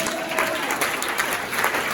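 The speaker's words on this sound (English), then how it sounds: "Give her a big round of applause." Round of applause from an audience at a cannabis science event as a guest is introduced, dense, continuous clapping filling the whole moment at steady volume.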